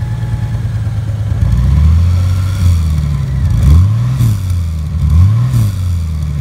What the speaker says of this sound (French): Écoutez-moi ça. Franchement, ça ronronne. Il n'y a pas beaucoup de moteurs qui donnent cette impression-là.